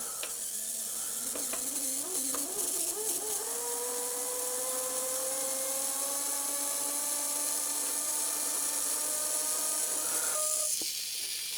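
A cheap small eBay electric motor, a slow RPM geared type, ramped up to 3 volts, whirring close by with a rising whine that settles into a steady high mechanical hum, alone with no voices.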